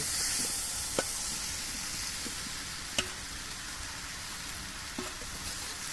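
Fried potatoes and jackfruit pieces hitting spiced oil in a pan, giving a steady close sizzle and hiss with a few sharp stirring clicks, no voices over it.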